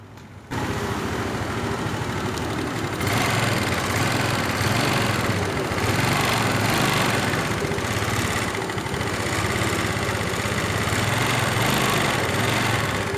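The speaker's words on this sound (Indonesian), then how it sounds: "Suaranya sangat kasar dari kopnya." A Yamaha Mio motor scooter engine with a rough-running fault idles roughly and loudly, its steady, uneven rattle running throughout after starting up.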